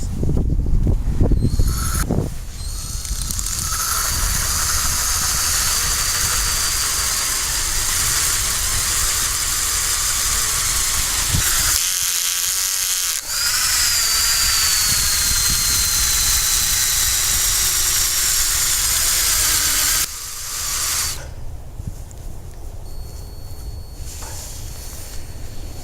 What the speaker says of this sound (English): this is a 2-inch bit. In this case, we're going to take a plug out of the area that he scraped off